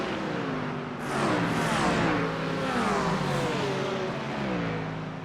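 Lamborghini race car engine in a sim racing game at Watkins Glen, revving hard through rising and falling gear sweeps, loud and continuous with a second car nearby.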